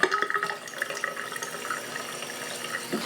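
Tap water runs steadily into a darkroom print-wash tray, a continuous close hiss and splash with slight fluctuations throughout and no voices.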